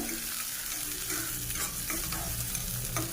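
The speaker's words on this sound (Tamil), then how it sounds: "இப்போ இந்த வெங்காயத்தை வதக்கிக்கலாம்" Steady frying sizzle of onions sautéing, with occasional stirring scrapes of a spoon in a pan, continuous and close, no talking.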